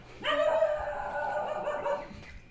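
One drawn-out dog howl or whine, close and fairly loud, rising then holding before fading out.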